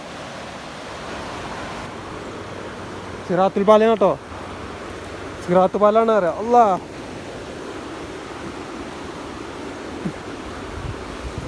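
Water from the Bhavani river rushes over a small check dam in Attappadi, a constant broad roar heard steadily throughout, with two short bursts of people talking over it.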